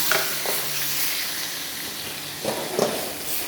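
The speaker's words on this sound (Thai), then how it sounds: "เนยกับปลาหมึกผัดรวมกัน" Butter and squid stir-fry in a pan with a steady close sizzle, broken by a few sharper scraping and stirring bursts near the start and again toward the end, with no talking.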